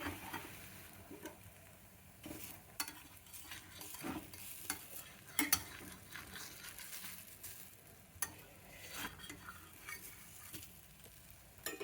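Millet roti roasting on a pan, a soft crackling sizzle with irregular scrapes and taps as it is turned and pressed, close and moderately quiet.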